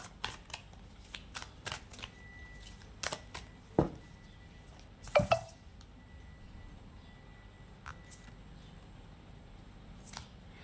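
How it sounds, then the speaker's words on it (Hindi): Tarot cards shuffled by hand, giving quiet scattered riffles and soft taps with a couple of louder snaps mid-way, close and isolated with no talking. "इसके लिए मैं कार्ड एक बार फिर से शफल कर लेती हूँ"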